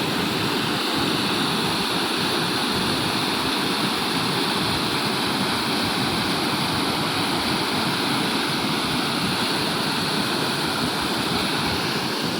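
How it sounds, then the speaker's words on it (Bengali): Torrential river water surges and roars beneath a bridge on the Jharkhand–Purulia border, a loud, unbroken rushing wash that holds steady throughout with no voices. "জলের তাণ্ডবটা দেখেন।"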